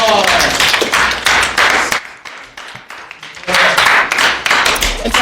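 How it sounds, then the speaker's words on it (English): An audience claps in a round of applause welcoming a German exchange student at a JROTC gathering, with dense clapping that dips briefly midway and then picks up again loudly. "Everybody give a round of applause."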